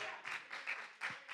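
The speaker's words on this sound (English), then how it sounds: "Give God a hand clap of praise." Hands clapping in praise during a Tuesday night church teaching service, several quick bright claps in a loose rhythm over about a second, moderately faint and without talk.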